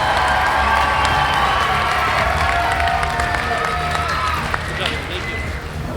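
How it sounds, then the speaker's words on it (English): At a fire academy graduation ceremony, the crowd gives the class sustained applause with cheering and whoops. The clapping stays loud and even throughout. "Give a class 26-1 another round of applause"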